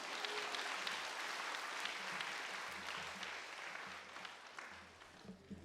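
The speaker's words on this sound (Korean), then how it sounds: "자, 나오시는 분들 위해서 박수로 한번 격려해 주세요." A church congregation claps in encouragement for people coming forward, a quiet, distant wash of many hands that fades slightly toward the end, with low murmurs beneath.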